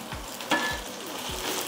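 Ginger crackles in hot oil in a pan, a close, steady sizzle broken by a few sharp pops and light stirring knocks, with no talking.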